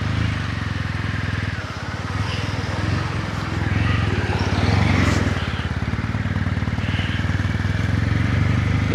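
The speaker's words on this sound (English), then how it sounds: "I am excited to be out on the bike" Kawasaki W800 Cafe motorcycle riding along a damp road, a steady engine drone with rumbling throb and wind noise throughout, close and continuous.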